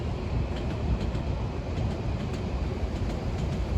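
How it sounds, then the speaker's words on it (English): A train passes nearby on the railway at Kensal Rise, giving a steady, loud rumble with faint rhythmic clatter throughout and no voices. "I'll just have a look at the train there."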